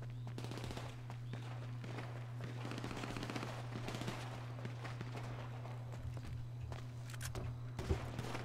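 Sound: gunfire in a video game

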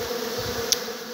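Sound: bees buzzing in hive box

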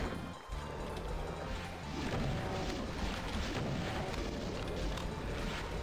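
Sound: rocket explosions in video game Doom mod DBP54

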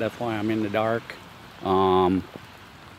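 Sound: rain falling outside

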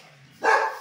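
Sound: dog barking inside a house

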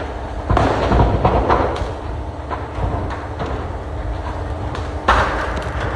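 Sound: firecrackers exploding in a burning lorry

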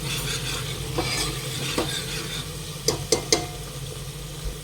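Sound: frying ground masala paste for mutton soup

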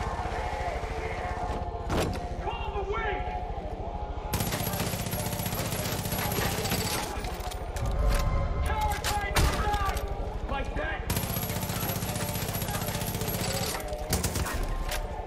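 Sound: shotgun gunfire in video game Far Cry 5

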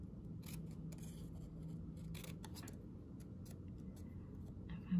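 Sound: scissors cutting out a paper square

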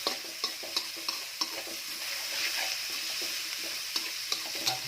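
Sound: pork stir-frying in pan

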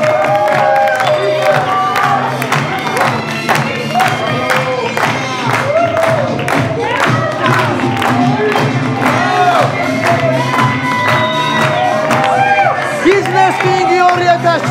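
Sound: audience applause and cheering for award winner

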